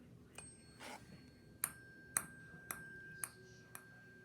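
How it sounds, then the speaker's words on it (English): A tuning fork is touched to a ping pong ball. A faint, high ring keeps going while a few soft, sharp ticks sound close by in a quiet room. "Can you hear the sound of the tuning fork?"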